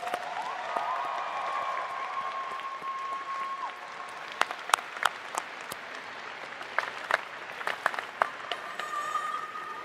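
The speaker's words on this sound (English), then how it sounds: "So let's give all of our friends, families, a round of applause for the support." Audience applause at a 2023 commencement ceremony, a fairly faint, steady patter of many hands clapping that thins into scattered, sharper individual claps toward the end.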